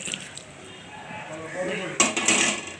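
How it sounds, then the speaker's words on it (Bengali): A khichuri mixture is poured into a cooking pot, with soft, quiet metallic scraping and clatter that builds into a few sharper knocks near the end. "এরপর আমি এটা ঢেলে দিচ্ছি"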